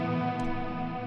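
Reverb tails from a Fractal effects unit linger as a soft, sustained tonal wash after the delay is switched off, fading gently and heard alone at low level.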